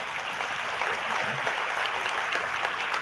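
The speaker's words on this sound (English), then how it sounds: "Can you give her a round of applause?" Steady audience applause with dense, even clapping at a business event honoring property management company owners, sustained and fairly loud for the whole stretch.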